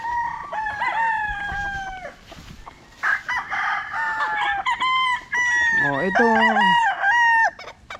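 Several stag roosters crow close by in overlapping calls, with long wavering cock-a-doodle-doo phrases and a few clucks in between.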